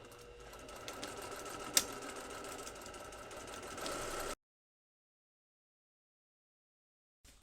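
A sewing machine stitches the bottom of a tote bag in a steady, close mechanical whir with one sharp click. It runs about four seconds and then falls silent.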